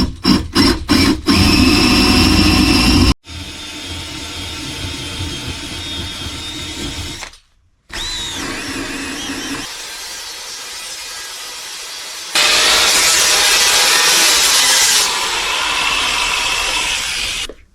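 A drill press grinds loudly in bursts with brief pauses between, then a harsher, hissing high-pitched whine of bolt holes being re-drilled through metal trailer brackets takes over near the end.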